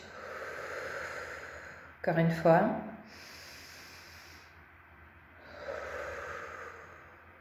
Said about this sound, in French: prenez une bonne respiration dans le ventre. Expirez par la bouche.